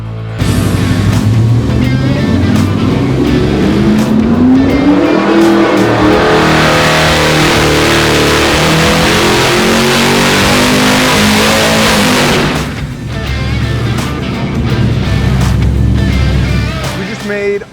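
A Gen-III Hemi V8 roars through a dyno pull, revs climbing steadily to a loud, sustained wail before dropping back off, then continuing at a lower throttle, heard close and dominant throughout.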